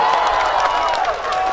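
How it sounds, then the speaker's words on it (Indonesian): A crowd at a Batak comedy show claps and cheers for a performer, a brief, loud, continuous burst of applause with voices calling out over it. "Tepuk tangan dulu buat Mary."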